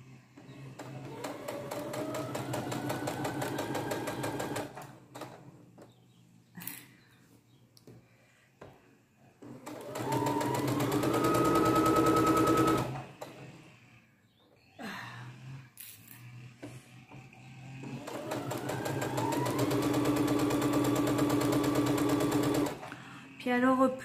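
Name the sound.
sewing machine stitching a dress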